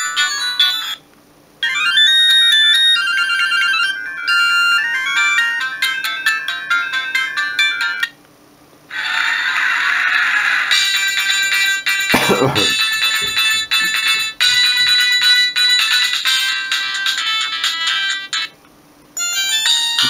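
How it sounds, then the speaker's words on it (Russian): Retro Samsung X100 mobile phone playing a run of polyphonic ringtones, bright electronic melodies one after another with brief silent gaps between tunes, loud and close with no talking. "Некоторые из рингтонов вы наверняка помните."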